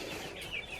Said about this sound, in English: our ducks and chicks arrived that we had ordered